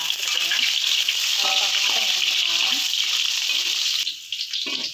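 Garlic sizzles loudly and continuously as it fries in hot oil in a pan, with a few brief stirring clatters and a short pause near the end.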